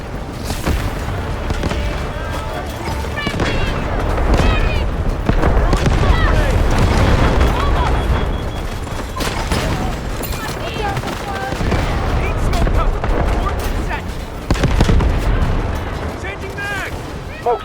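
Artillery barrage in the video game Delta Force, repeated heavy booms and explosions mixed with bursts of gunfire, loud and chaotic, with voices talking and shouting over the battle.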